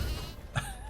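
A single short sheep bleat from the video game Rogue Loops, brief and mid-loud over a steady low background hum.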